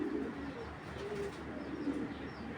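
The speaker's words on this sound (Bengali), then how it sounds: "এইগুলা বিদেশি কবুতর ভাই" Imported Belgian-bloodline red chequer cock racing pigeon cooing in low, soft, steady murmurs, close by, with faint chirps in the background.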